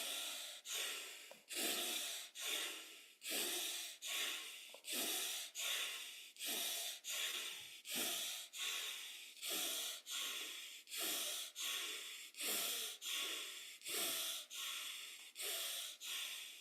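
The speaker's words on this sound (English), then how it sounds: "1. Rhythmic breathing." Forceful rhythmic breathing exercise, fast regular breaths through the nose, about one per second with sharp snorting inhales and exhales, close and steady throughout.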